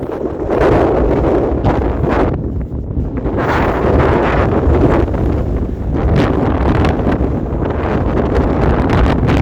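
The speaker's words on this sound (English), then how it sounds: "That wind's driving." Strong wind buffeting across the summit of Foel Fras in Snowdonia, a loud, continuous roar with gusty surges and heavy microphone rumble, no voices.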